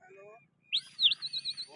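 Pigeons being flown outdoors, with a few bright chirping bird calls and short repeated tweets close by, over faint background murmur.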